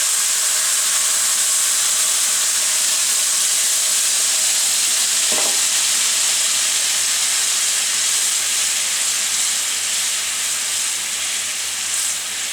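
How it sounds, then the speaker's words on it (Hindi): Jaggery syrup hitting a pan of cooking halwa sets off a loud, steady sizzling hiss that stays constant throughout, with one brief clink from a utensil partway through and no voices. "अब इसमें मैं गुड़ की जो चाश है वो डाल दूंगा।"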